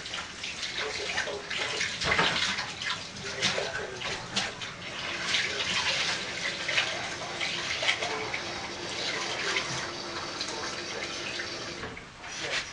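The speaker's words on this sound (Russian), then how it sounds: "Поливаю я тепленькой водичкой." Warm water poured from a small watering vessel onto eggplant seedlings in cups made from plastic bottles, a steady splashing trickle running continuously and fairly close, with no talking.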